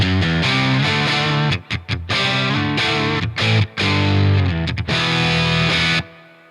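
An electric guitar runs through a Walrus Audio Voyager MK II overdrive/boost pedal into a Bad Cat amp with an EF86 preamp, producing loud, driven chords with short pauses and a light reverb tail at the end.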